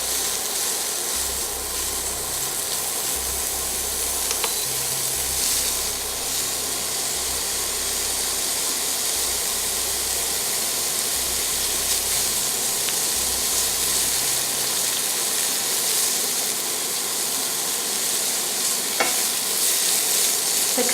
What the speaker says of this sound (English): Stir them, spread them in the pot, and wait until the fat comes out.